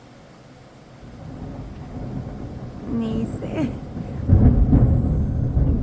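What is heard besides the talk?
thunder sound effect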